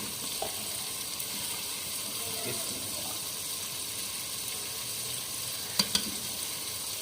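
Chicken noodles with peas sizzle steadily in a pan in a village kitchen as red chili powder is stirred in, with two sharp spoon clinks near the end.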